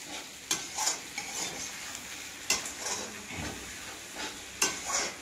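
Egg and vegetables frying with chow mein in a pan, a steady sizzle broken by several scraping stirs and clinks of the utensil against the pot, close and alone with no talk.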